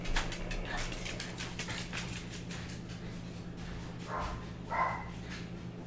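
Over a steady background rumble in the Uboat submarine video game, a dog barks a couple of times at moderate distance, the barks short and fairly faint within a busy low hum.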